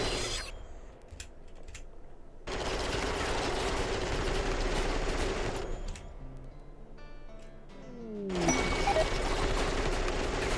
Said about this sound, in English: So we'll just keep up with shooting and we will be a-okay against these guys